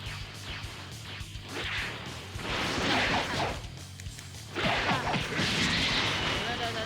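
Blasts, whooshes and crashing impacts from the Super Explosive Wave attack in the video game Dragon Ball Xenoverse 2, coming in several loud bursts over a few seconds.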